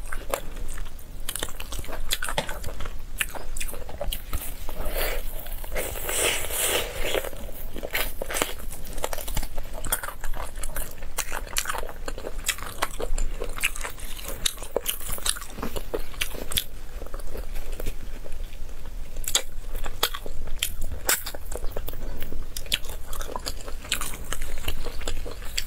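Spicy Chinese duck wings bitten and chewed up close, with loud crunchy bites and wet chewing going on nonstop, plus brief crinkling of packaging.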